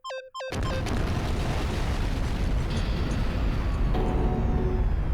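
An explosion in the video game Danganronpa: Trigger Happy Havoc, as a thrown Monokuma bear blows up. A couple of short electronic tones lead into a sudden loud blast that stays as a long, dense roaring rumble.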